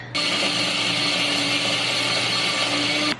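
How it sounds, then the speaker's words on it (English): A blender runs steadily at high speed, loud and continuous, blending garbanzo beans with milk and nutritional yeast for a breakfast recipe, with no talking over it. "And then we're gonna transfer this over to the blender"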